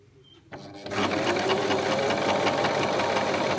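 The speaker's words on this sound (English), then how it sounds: "I've aligned the edge of my fabric with the blade and we're going to start sewing." A sewing machine fitted with a quarter-inch quilting foot and guide stitches through fabric, starting with a click and then running in a loud, steady, fast mechanical whir close by.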